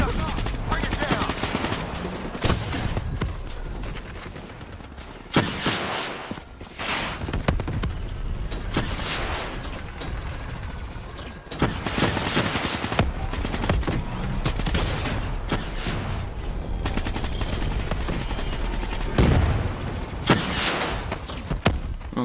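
Rapid bursts of automatic gunfire and fusillades from the PlayStation 4 shooter Call of Duty: Black Ops 3 repeat loudly throughout, broken by short pauses, with voices talking over parts of the action.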